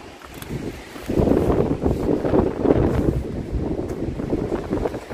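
Wind gusting through Mount Jerome cemetery roars into the microphone as a loud, continuous buffeting rumble that rises after a quieter first second and stays strong throughout.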